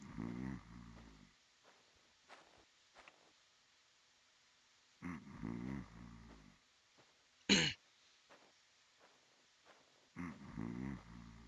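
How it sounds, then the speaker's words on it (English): A character snores while asleep in GTA San Andreas Definitive Edition, with deep rasping breaths in slow repeating cycles separated by quiet gaps, and one sharp brief noise between them. "Oh my god, how much snoring he is doing, man"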